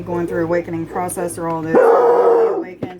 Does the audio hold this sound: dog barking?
yes